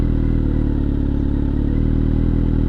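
A motorcycle engine as the rider slowly lets the clutch out through the friction zone to pull away during a beginner riding lesson, a loud, close, steady rumble with light mechanical clatter and no talk.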